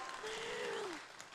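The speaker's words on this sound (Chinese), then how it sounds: "掌声鼓励！" An audience at a press conference launching a Hakka cooking show claps in a thick, continuous wash of applause, with a brief rising-and-falling vocal exclamation drifting over it near the middle.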